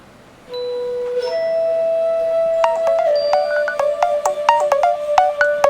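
A phone ringtone for an incoming call plays alone and loud, starting after a short silence as a sustained tone, then building into a rapid run of bright, repeating electronic melody notes.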